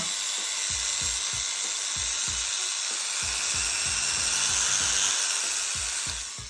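A mini angle grinder whines steadily at high pitch, with a faint rattling pulse underneath, running continuously close by.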